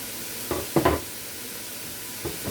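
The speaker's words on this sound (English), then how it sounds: "I cut up some tomato too for flavoring, and the pumpkin. So everything is just gonna saute right now." Carrots, tomato and pumpkin sautéing together in a pan, a soft background sizzle broken by a few distinct stirring scrapes and clatters, one cluster early and two lighter ones near the end.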